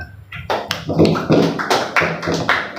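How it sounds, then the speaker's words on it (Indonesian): An audience at an Indonesian union reconciliation meeting hall claps and taps together, a loud, dense, steady patter of hands with a low roomy rumble underneath. "Tepuk tangan untuk kita."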